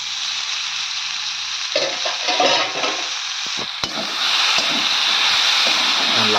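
Bottle gourd curry fries in a pan with a broad, steady sizzle, broken by a few scraping stirs and brief clinks partway through, then settling into a louder continuous hiss.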